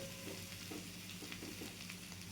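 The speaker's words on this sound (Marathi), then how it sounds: "छान मिक्स करायचं आणि छान बारीक गॅसवर आहे ना छान शिजू द्यायचं" Sliced kantola (spiny gourd) stir-fried over a low flame, with a steady, moderate sizzle and occasional light stirring clicks against the pan.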